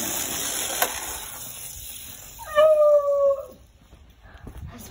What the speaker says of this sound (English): As my dog barks in the background